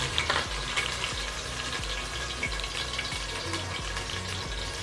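Ginger garlic paste sizzles in a hot pan for a chicken and field bean curry, a steady dense frying hiss with soft, regular stirring scrapes and no voices.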